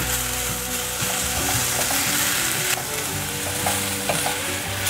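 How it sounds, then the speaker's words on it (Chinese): Browned potatoes stir-fried in a pan give a loud, continuous sizzle, with a spatula scraping and turning them now and then, heard close with no voices. "煎了一阵子，已经焦黄色了，给它翻面炒一炒"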